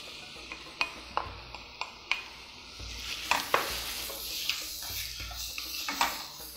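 Grated onion cooking in butter with spices in a pan for a spiced roast dish, a soft steady sizzle broken by repeated sharp scrapes and knocks of a spoon stirring against the pan, close and alone with no voices.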